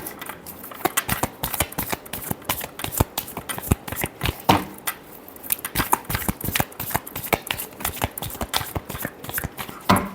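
Tarot cards are shuffled up close, a rapid run of crisp riffling snaps and soft slides that repeats steadily over about ten seconds, with no voice.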